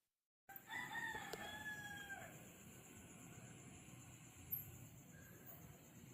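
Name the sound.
rooster crowing before dawn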